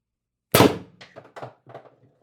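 A Pistelle X-68 airsoft pistol fires a single sharp shot over a chronograph, one loud close crack followed by a few fainter mechanical clicks and rattles in quiet surroundings.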